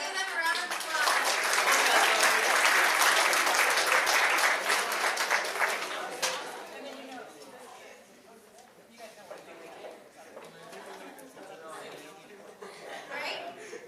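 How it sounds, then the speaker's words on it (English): Conference audience breaks into dense, loud applause that swells for several seconds, then thins into scattered claps and murmuring chatter as the room settles. "let's give them a round of applause"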